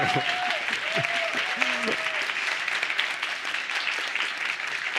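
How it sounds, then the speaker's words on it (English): An audience applauding during a talk session, sustained steady clapping throughout with a voice speaking briefly over the opening. "That's the first time I've ever been applauded for that in my life."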